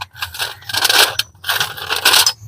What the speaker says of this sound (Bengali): আর এখান থেকে একটা ভেঙেও দেখাচ্ছি এই দেখুন কতটা খাস্তা হয়েছে